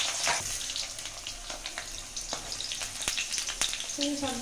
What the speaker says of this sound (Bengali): ওই তেলের মধ্যেই আলুগুলোকে লম্বা লম্বা করে কেটে আমি ভেজে নেব নুন আর হলুদ দিয়ে